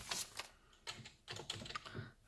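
Fingers typing on a computer keyboard, a short run of several crisp key clicks in uneven bursts, close and quiet with no talking.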